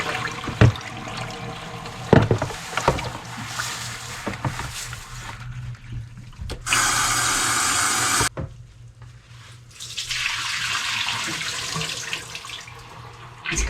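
Water draining out from a pine needle infusion, gurgling and trickling with irregular knocks, a louder rushing burst in the middle, then a steady flow continuing.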